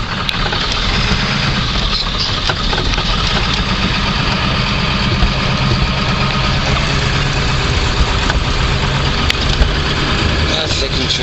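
A big diesel truck engine runs steadily while driving along a bumpy road, a loud continuous low rumble and idle-like drone with vibration filling the whole stretch, without pause.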